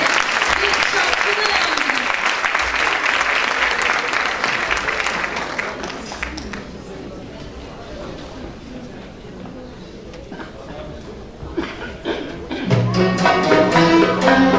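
Enthusiastic clapping from a concert audience at a Turkish classical music concert, loud and dense at first, then thinning to scattered claps before music swells in at the end.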